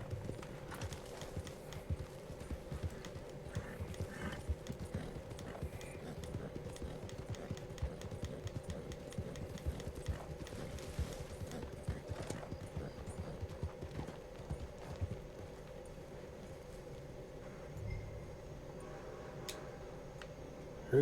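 Horse hooves clip-clopping in the video game Red Dead Online, a steady rapid run of close hoofbeats continuing for over twenty seconds with a faint background hum.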